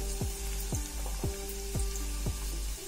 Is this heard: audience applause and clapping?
no